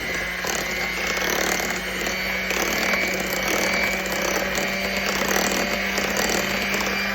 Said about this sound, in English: now we're gonna beat those together, the eggs and the sugar